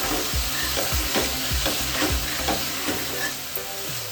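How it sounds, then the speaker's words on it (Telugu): Okra and tomatoes fry and sizzle steadily in a pan while a spoon stirs them, giving repeated scraping strokes at a close, even level with no talking. "బెండకాయలు, టమాటాలు వేసి బాగా కలుపుకోవాలి."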